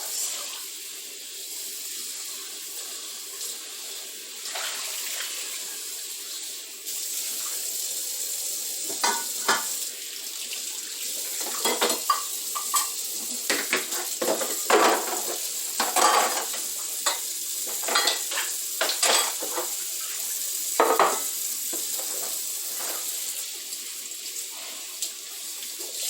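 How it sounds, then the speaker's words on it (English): Dishes being washed under running water in a large kitchen sink: a steady stream of tap water with scattered clinks and clatters of plates and utensils, close by and without talk. "I'm glad I got a huge sink. It makes doing dishes nice."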